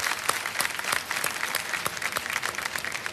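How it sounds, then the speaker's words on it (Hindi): An audience welcomes a guest expert onto a show with lively applause, a steady crowd of clapping broken by distinct sharp nearby claps, sustained throughout at a strong level with no speech. "तालियों के साथ इनका स्वागत।"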